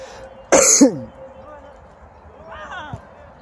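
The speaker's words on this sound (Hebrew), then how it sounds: "להתנצל מהצופים שאני משתעל." A sports commentator coughs once, loud and close, with a sharp harsh burst and a rough tail, during a studio broadcast of a league soccer match; softer throat sounds follow over a quiet room hum.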